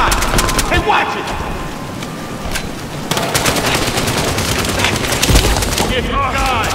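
Rapid automatic gunfire rattles in Battlefield Hardline, dense overlapping bursts and shots running continuously and loud, with scattered booms and clatter in the background.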